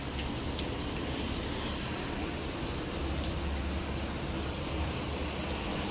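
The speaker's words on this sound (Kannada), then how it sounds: "ಮಳೆಯಾರ ಜೋರು ಐತಿ" Heavy rain pours steadily outside a home doorway where water has pooled, a dense continuous hiss of drops on surfaces with low rumbling underneath, constant and close throughout.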